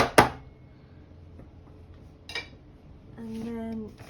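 A cake pan of apple cake batter gives one sharp tap against the kitchen counter, a brief close knock followed by quieter clinks, and a voice speaks briefly near the end.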